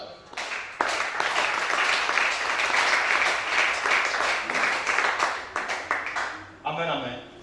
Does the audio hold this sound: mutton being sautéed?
no